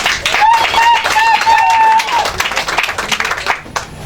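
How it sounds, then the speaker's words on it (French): Audience clapping at an African excellence awards ceremony for the woman being honoured, a burst of applause mixed with a bright sustained tone and voices, tapering toward the end. "On peut d'abord applaudir pour elle"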